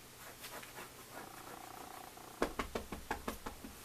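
A pet cat purrs softly and steadily, then a run of sharp, rhythmic knocks or taps sounds close by, with faint voice in the background.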